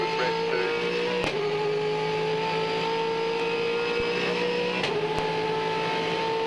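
A 2012 V8 Supercar engine at the Sandown 500, steady high-revving drone with harmonic bands, briefly bouncing off the rev limiter with sharp stutters near the start and end, loud and continuous with no talk.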